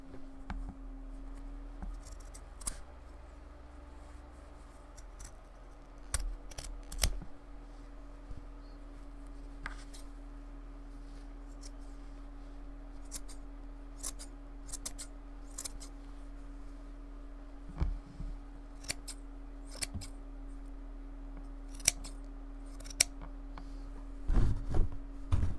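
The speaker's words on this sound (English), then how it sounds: "So that was scissors on the felt." Scissors cut through thick felt in sparse, sharp snips and crunches, scattered irregularly over a quiet steady hum, close and fairly soft, with a cluster of louder snips near the end.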